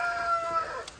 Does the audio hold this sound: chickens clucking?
yes